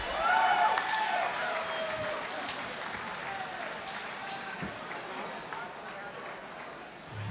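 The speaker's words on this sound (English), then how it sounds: "let me get a big round of applause for Tresttan Wittke" A large crowd at a fight event applauds loudly, dense clapping and cheering that swells at the start and stays steady throughout, with a voice mixed in.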